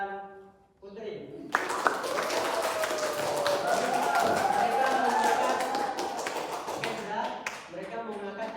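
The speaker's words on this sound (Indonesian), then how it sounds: "beri aplaus untuk Siva dan Putri" Classroom applause for Siva and Putri during a teacher training session, a steady clatter of many hands clapping that swells up and holds for several seconds while a voice talks over it.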